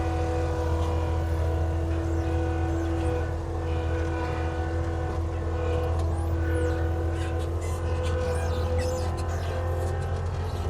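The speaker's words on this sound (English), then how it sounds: "I feel like Avant has started to squeal more than previously." An Avant compact loader spreading gravel on a construction site drones loudly and steadily, with a thin, sustained squeal riding above the engine noise throughout.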